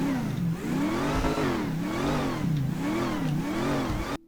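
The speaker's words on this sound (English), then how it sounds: "you can really hear that supercharger, even just at really low RPMs" A supercharged car engine in GTA 5 revs repeatedly in a rising and falling pattern, its pitch climbing and dropping in smooth waves with a whirring whine over the engine note, close and loud, with no talk.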